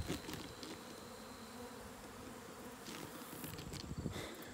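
Honey bees shaken off a brood frame into a bucket give a dense, steady swarm of buzzing, close and continuous, with a few brief knocks and louder swells near the end.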